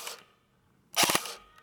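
A G&G Raider 2.0 airsoft gun fires one quick three-shot burst in full-auto mode, three sharp, tightly spaced mechanical cracks up close, with a faint click just before.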